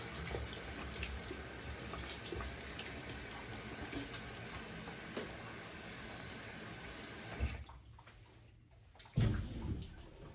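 Tap water runs steadily while someone rinses off after a shave with a razor and shaving brush, a broad continuous splash that stops near the end before a short burst of water returns.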